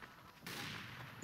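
A sniper rifle shot in the Team Fortress 2 video game cracks out loudly and abruptly, then its broad blast lingers briefly over faint game background noise.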